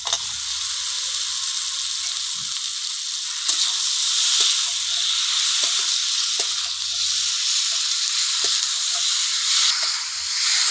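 Fried potato pieces cooking in a spiced masala in a pan for a silver carp and potato curry, giving a steady loud sizzle throughout with a few soft scraping stirs and no talking.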